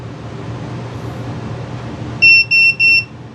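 A WingSmith drone's onboard beeper sounds three short, loud electronic tones in a quick even series over a steady low background hum.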